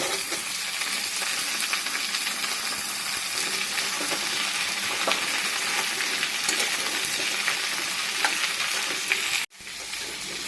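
Steady loud sizzling of raw tomato and cauliflower frying in a hot pan with onions, a continuous crackling hiss, with a brief clatter and pause near the end.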